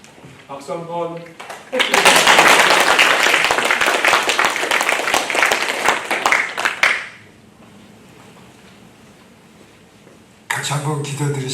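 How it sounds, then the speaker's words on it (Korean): A church congregation bursts into loud, sustained applause lasting about five seconds, then it fades; speech is heard briefly before and after the clapping. "박수 한번."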